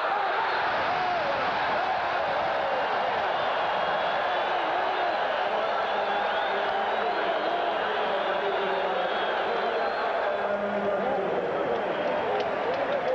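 Roar of a stadium crowd of about 80,000 at a 1983 NFL game between the Seattle Seahawks and Cleveland Browns, a steady dense wash of cheering throughout, heard under ongoing play-by-play commentary.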